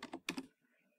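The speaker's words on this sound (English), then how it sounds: "Now, type power" A few quick keystrokes on a computer keyboard while typing a command, four soft close taps in about half a second, then quiet.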